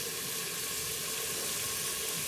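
Continuous hiss and crackle of spices frying in hot oil, steady and close, with no voices.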